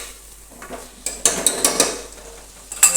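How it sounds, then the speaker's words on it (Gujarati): A spoon stirs and mixes guar bean curry in a metal pan. It makes a series of sharp clinks and scrapes in quick bursts over a faint background, with no talking. "જો આવી રીતે આપણે તેને બરાબર મિક્સ કરી દઈશું"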